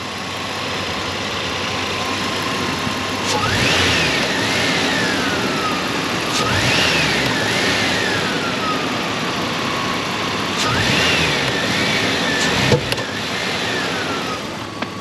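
Nissan GU Patrol engine idling steadily, revved four times in sharp rises and falls with a fuel pressure fault; close and loud, no voices.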